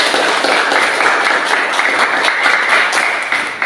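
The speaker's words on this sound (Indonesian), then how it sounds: "Mari kita memberikan aplaus kepada kelompok 1" A classroom audience applauds a student group for a few seconds, with dense, even clapping from many hands, loud and close, and no one speaking over it.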